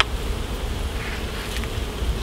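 Honeybees drone in a steady, dense buzz during a UK hive inspection as the brood frames are worked, a continuous close hum with no talk over it.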